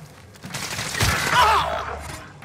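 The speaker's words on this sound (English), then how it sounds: "I'm taking fire here." Gunfire in Call of Duty Warzone on Rebirth Island, a short burst of shots rising to a peak then fading, with faint player voices underneath.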